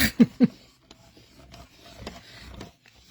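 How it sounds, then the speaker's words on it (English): A die cutting machine rolling a die and cardstock through in one pass for a handmade A6 card, with two loud mechanical thumps at the start, then a quieter low rumbling grind that carries on to the end. "My machine, I only need to roll it through once and it will cut through the cardstock"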